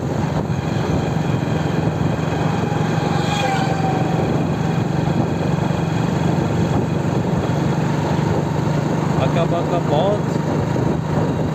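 A motorbike engine drones steadily and loudly through a ride along a village road past paddy fields, with a brief voice and faint high chirps over it.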